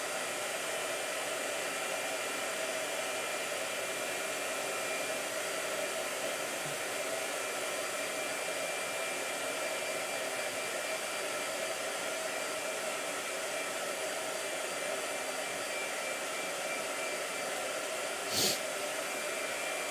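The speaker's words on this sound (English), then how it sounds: "Blow dryer." Blow dryer drying a watercolor painting, a steady close airy whir running unbroken at constant level, with a brief click near the end.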